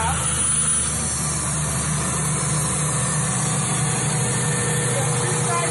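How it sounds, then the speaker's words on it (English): A large air compressor engine runs steadily in a continuous low idling drone with a deep hum, loud and close throughout, with no pauses or talk. "This is, of course, a much bigger air compressor than you really need to have."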